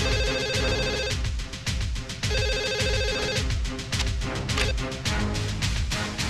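A home telephone rings with a repeating electronic ringtone, bursts of tone over steady background music with thumping beats, no talk.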